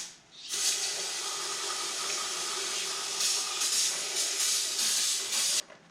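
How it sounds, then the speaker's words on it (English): Brake cleaner spray hissing steadily onto transfer case parts from a 2001 Chevy Silverado 2500, one long close burst of about five seconds with slight pulses in intensity, no talking. "Nothing like good old brake clean bath."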